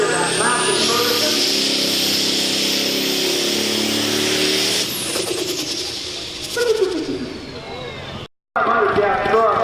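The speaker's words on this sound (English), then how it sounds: "Nathan Barrett in that massive Ferguson." A Massey Ferguson pulling tractor at a tractor pull in Paris, Illinois roars loudly and steadily at full throttle with a high whine, then the engine note drops and it cuts off briefly near the end as the run finishes.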